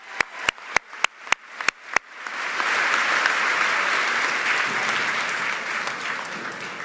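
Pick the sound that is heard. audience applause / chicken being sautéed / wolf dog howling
audience applause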